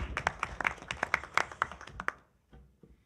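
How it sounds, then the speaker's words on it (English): Brief round of applause from a small audience at a school board of education meeting, sharp individual claps in a quick cluster that tapers off and stops after about two seconds, leaving near silence. "let's give her a round of applause"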